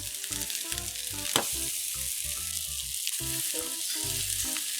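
Hamburger steak patties fry crowded in a pan, a loud steady sizzle throughout with a brief sharp clatter near the middle and a low tonal hum underneath.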